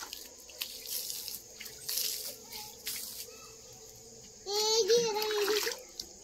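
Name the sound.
water being poured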